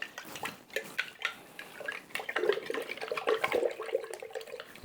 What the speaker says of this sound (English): You hear the water?